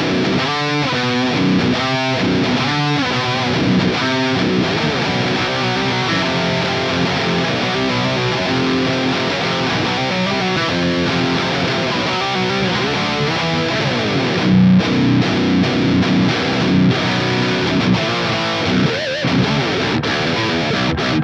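Heavily distorted electric guitar run through amp simulator tones, playing chugging riffs with a steady rhythmic pulse, loud and continuous with no voices.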